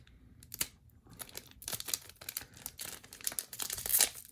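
Rustling and crinkling of a foil trading-card booster pack as it is torn open from the bottom, with irregular sharp tearing bursts and crackles, close up and without talk.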